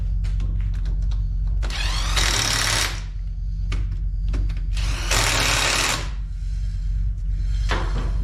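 Wheel bolts being tightened with a powered socket tool: three loud, close rattling bursts, two longer and one brief at the end, over a constant low hum.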